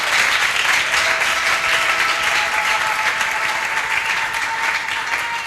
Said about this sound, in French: Oh, applaudissez pour Jésus!